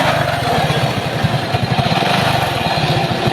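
A motorcycle engine idles roughly and loudly nearby, its uneven pulsing rattle continuing steadily without any talk.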